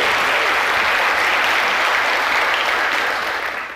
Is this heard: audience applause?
yes